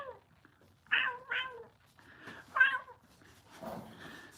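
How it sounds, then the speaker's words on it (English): A cat gives a series of high, strained meows like a strange little kitten: two quick cries, then a longer one and a fainter trailing call, close up in a quiet room. "it sounds kind of like a weird little kitten"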